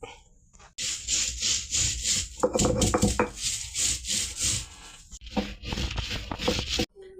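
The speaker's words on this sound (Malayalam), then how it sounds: "തേങ്ങയും മഞ്ഞൾപ്പൊടിയും കൂടെ ചതച്ചെടുക്കും" Coconut and turmeric powder being crushed by hand for a Kerala-style Turkish berry stir-fry, heard as close, rough rhythmic grinding and scraping strokes that repeat in bursts with short pauses.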